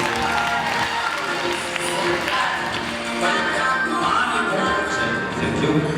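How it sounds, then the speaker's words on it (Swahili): Church congregation clapping for Jesus at a sermon during a graduation gathering, a steady dense wash of many hands applauding with crowd noise throughout. "Chapia Yesu makofi."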